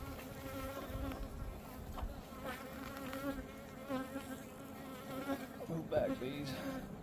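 Honey bees buzz around an opened backyard hive during maintenance, a dense, wavering drone of many wings close by, with passing bees swelling in and out and faint voices underneath.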